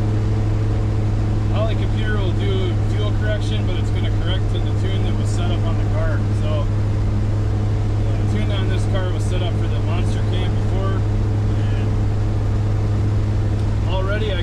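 A turbocharged LS-engined car with a stage 3 cam pulls away from idle into first gear, its steady low engine drone constant and close throughout while someone talks over it.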